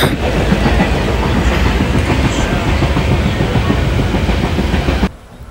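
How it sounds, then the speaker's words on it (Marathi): The Janshatabdi Express running from Ratnagiri to Thane, heard from a window seat inside a coach as a loud, steady rumble with rapid rhythmic clatter of wheels over rail joints, cutting off abruptly near the end. "आणि ट्रेन आता चिपळूण स्टेशनला पोहोचली आहे"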